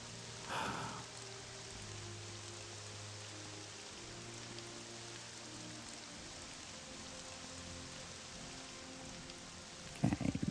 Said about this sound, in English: Oh, rain. It's like it is here.